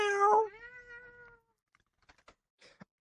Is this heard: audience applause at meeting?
no